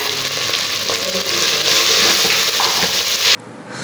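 Tomatoes sizzling in oil inside a Geek Robo Cook machine, a loud close crackling fry with stirring that cuts off abruptly near the end.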